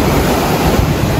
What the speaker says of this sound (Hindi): और पीछे आवाज इतनी आ रही लहरों की